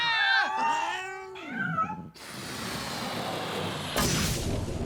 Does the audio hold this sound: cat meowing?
yes